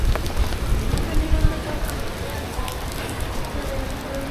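Steady, heavy rain hisses down onto surfaces near a roof shelter in Tlaquepaque, Mexico, a dense, constant patter with no gaps.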